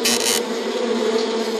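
Bees buzzing in a steady, continuous drone, close and fairly loud, with a brighter hissing burst at the start, and no voices.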